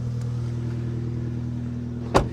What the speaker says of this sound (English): the exhaust certainly sounds different